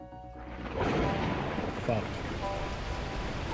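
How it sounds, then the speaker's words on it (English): Torrential rain bursting in the video game Beacon Pines, a dense roaring downpour that swells in suddenly and stays loud and close, with a short spoken exclamation over it. "the heavens opened up, unleashing torrential rain"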